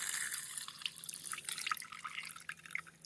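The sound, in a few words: water pushed out through a cheap water filter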